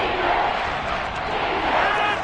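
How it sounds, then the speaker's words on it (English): Stadium crowd in an American football video game roars steadily ahead of a big third down, a dense, loud, continuous swell of cheering and shouting voices. "the crowd getting into it as we come up on a big 3rd down"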